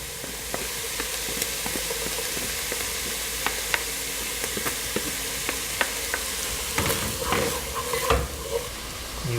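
Canned chickpeas tumble into a hot frying pan with mushrooms for a homemade Indian curry, bringing a steady sizzle, stirring scrapes and scattered clinks that build toward the end.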